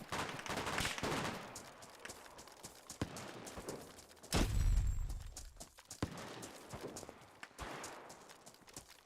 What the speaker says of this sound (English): The gun sounds so cool.